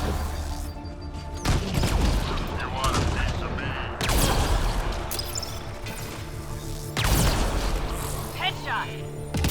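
Gunfire crackles in a shooter video game, dense bursts of shots and impacts with loud crashing spikes and booms over several seconds, a steady game soundscape beneath.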